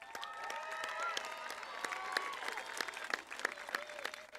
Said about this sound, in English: Please join us in giving our graduates one last round of applause.